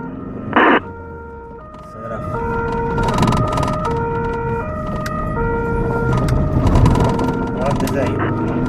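An ambulance siren on an Italian roadside sounds loud and near, stepping steadily between two alternating tones for several seconds. Engine rumble and radio chatter run beneath it, and voices are heard.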